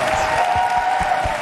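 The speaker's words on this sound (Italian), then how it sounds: "ce lo facciamo un applauso, eh?" Studio audience applauding on the set of the Italian reality show Grande Fratello, a steady, dense wash of clapping that fills the short moment at a fairly loud, even level.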